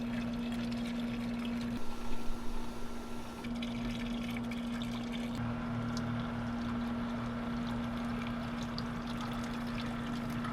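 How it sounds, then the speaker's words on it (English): Outboard flushing solution pours from a gallon jug in a continuous, even liquid rush, close by, over a steady mechanical hum. The splashing briefly grows louder near the start. "I'm going to put this whole gallon in there, and then I'm going to fill this gallon back up with water"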